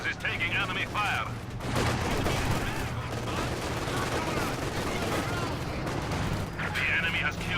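Continuous battlefield gunfire and explosions in the WWII strategy game Company of Heroes 2, dense rattling rifle and machine-gun bursts with heavy booms, under an announcer's voice at the start and end.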